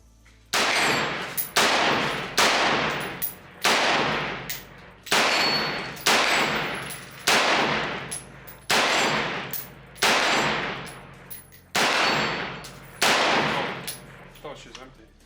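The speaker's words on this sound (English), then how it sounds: "let's just do some shooting quick, huh?" A Daniel Defense M4A1 14.5 rifle fires about fourteen loud single shots outdoors at a steady pace of roughly one per second, each crack followed by a ringing, decaying tail.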